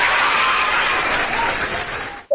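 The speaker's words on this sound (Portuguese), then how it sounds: "uma salva de palmas aqui pra mim" Dense applause from an audience at a live talk, loud and continuous before cutting off abruptly at the end.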